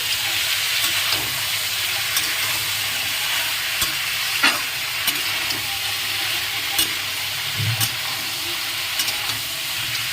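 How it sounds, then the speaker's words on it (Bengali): Duck meat frying in a village kitchen, a loud continuous sizzle close by, with occasional clanks and scrapes as the pieces are stirred and turned. "এই মাংসটা পাঁচ মিনিট মতন ভেজে নেবো"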